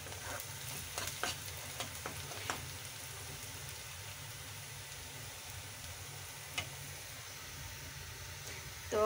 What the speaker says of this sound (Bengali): তো এই শুটকি ভুনা করতেছি